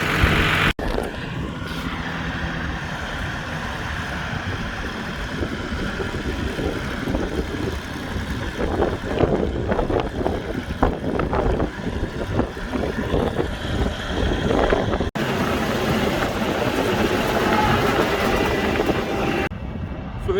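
Old farm loader engine running steadily while carrying a bucket of dirt, a loud continuous rumbling drone with rattling and clanking throughout, close by and without talk.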